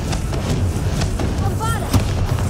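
The Confringo fire spell blasts in the video game Hogwarts Legacy as a string of sharp, loud booms and crackles over game music, with a brief whooshing burst near the end.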